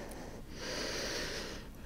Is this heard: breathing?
yes